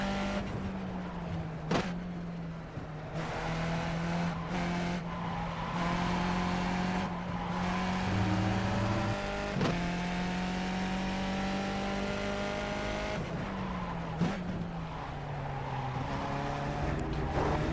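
A Formula 2000 open-wheel race car in the iRacing sim roars steadily through a lap, its engine pitch climbing and dropping with gear changes and braking into corners, loud and continuous with no talking.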